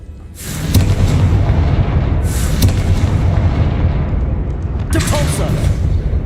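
Confringo fire spell exploding in Hogwarts Legacy, a series of loud booming blasts with a rumbling low roar in between, three sharp bursts standing out above it.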